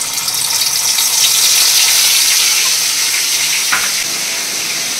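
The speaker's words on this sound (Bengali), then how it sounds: "এই তেলের মধ্যে দেখো একটু জিরে ফোড়ন দিয়ে দিলাম" Cumin seeds splutter in hot oil in a pan while pointed gourd is being cooked, giving a loud, steady, close crackling sizzle that fills the whole stretch with no talking.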